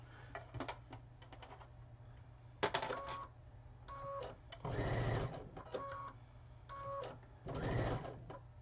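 A sewing machine stitches a final seam in several short bursts separated by pauses, with mechanical clicks between runs over a low hum.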